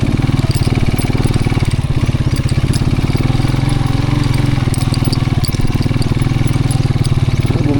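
A motorcycle engine runs loudly and close, a steady rapid chugging throb with rattling overtones and no letup.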